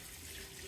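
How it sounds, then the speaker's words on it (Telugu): Water and coconut milk pour in a continuous stream into a pressure cooker holding mutton pulao, a soft steady splashing with no talk. "పులుసు అన్నీ కలిపి పోసేద్దాం"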